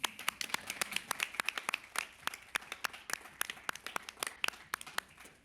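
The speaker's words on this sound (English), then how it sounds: "Now you can clap." Meeting attendees clap together, a quiet, crisp patter of hands from a small group that continues steadily for several seconds with no voices.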